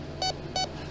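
Sea Hunter metal detector giving two short electronic beeps, evenly spaced, clear and close over a low steady hum, with no talk.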